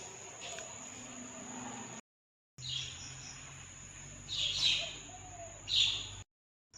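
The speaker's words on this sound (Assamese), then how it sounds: "শালিকা চৰাই" A common myna chirps outdoors in the early morning, a few bright calls rising over steady insect-like background hiss, loudest near the end, with a quiet gap in the middle.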